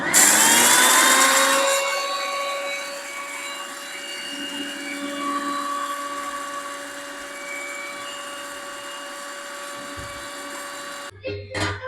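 A kitchen mixer grinder grinding cumin whirs loudly at full speed, settling into a steady high-pitched motor drone before cutting off near the end.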